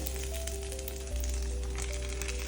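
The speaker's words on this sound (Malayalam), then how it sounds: "ഞാൻ ഈ ഫ്രൈ പാനിലേക്ക് ഈ ഇല വെച്ച് കൊടുക്കുന്നുണ്ട്" A mango ginger leaf laid in a hot frying pan, before fish is cooked on it, crackles with a steady, close, continuous sizzle over a low background hum.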